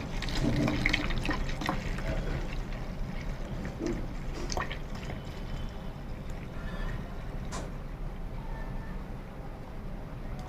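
Homemade white phenyl poured into a bottle, a steady liquid fill running for about ten seconds at moderate level, with a few faint knocks and drips on top and no talk.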